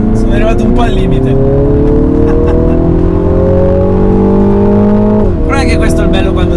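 MINI JCW GP 2020 engine revving hard on a race track, loud and close, pitch climbing steadily for several seconds before dropping sharply at a gear change and rising again.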